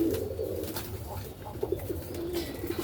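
Istanbul-type pigeons cooing close by, with soft, low, throaty calls repeating in short bursts over a faint background hum.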